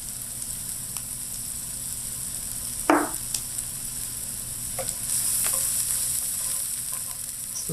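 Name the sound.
garlic sizzling while frying for beef chili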